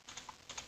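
A few quick, faint keystrokes on a computer keyboard, including an Enter key press, sound as light clicks in a quiet room.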